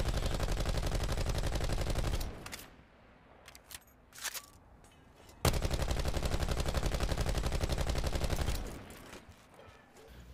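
VAPR-XKG assault rifle fitted with an ELO sight firing in Call of Duty: Black Ops 4, two long loud bursts of rapid automatic fire separated by a short gap with a few single shots.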